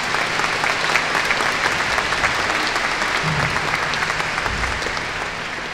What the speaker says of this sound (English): Please give a round of applause for all of these.